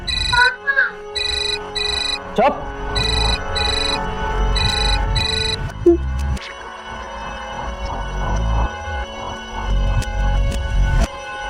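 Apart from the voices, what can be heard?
phone ringing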